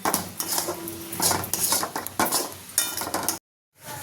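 Dhoka mixture is stirred in a pan, with repeated scraping and clattering of a utensil against metal in bursts, fairly close and loud, stopping abruptly near the end before a brief return.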